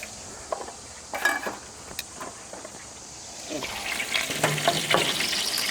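A steak sears in a hot pan, its crackling sizzle starting soft with a few clinks and then swelling louder and denser near the end.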